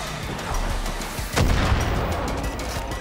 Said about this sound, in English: They do have mortars.